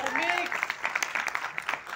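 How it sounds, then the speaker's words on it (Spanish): Audience applause for a percussionist at a live tribute concert, scattered claps rising in bursts over crowd noise and a voice speaking, fairly close and moderately loud. "Un aplauso para él."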